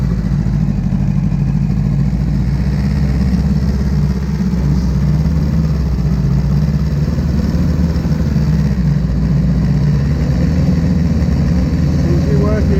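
A 1962 Evinrude outboard boat engine runs steadily in gear with a low, even drone, loud and close throughout, and a voice talks faintly over it.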